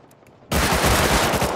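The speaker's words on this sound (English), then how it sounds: "He's getting shot by Heli." Rapid machine-gun fire from an attack helicopter in the Rust console survival game bursts in loud and close after a quiet start, a dense continuous rattle lasting over a second.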